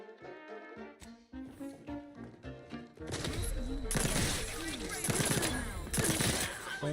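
Rapid gunfire bursts erupt in the video game Outer Worlds 2, loud dense shooting breaking in after a stretch of music and continuing under sound effects.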